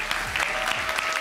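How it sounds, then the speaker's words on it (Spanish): A brief burst of audience applause for award winners at the grand final of the Premio Los Creadores 2022, dense and continuous clapping at steady loudness with no speech over it. "Fuerte el aplauso para los ganadores en esta gran final de los creadores 2022."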